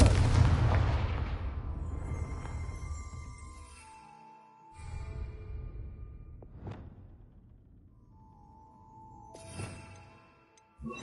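A Confringo blasting spell from Hogwarts Legacy goes off with a loud booming explosion that rumbles and decays, followed by a couple of fainter thuds and whooshing bursts further on.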